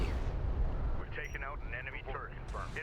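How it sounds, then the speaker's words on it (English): Railgun fire in a Deserts of Kharak battle, heavy booming low rumble of continuous shots and blasts with sharper bursts layered on top, loud and dense throughout. "Railguns."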